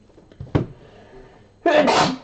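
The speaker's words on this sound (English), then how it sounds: "sneezes on every stream" A person sneezes twice during a baseball card box break: a sharp first burst, a pause, then a louder, fuller sneeze close to the microphone.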